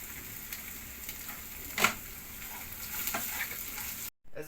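Browned onions and boiled mushrooms seasoned with salt and pepper frying in a pan, a soft steady sizzle with one sharp scrape from stirring, then a brief cut to silence near the end.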